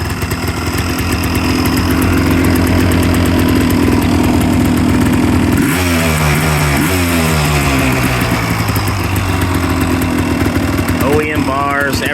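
A fully restored 1986 Honda TRX250R ATV two-stroke engine idles loudly and steadily up close, then blips and revs several times in rising and falling bursts.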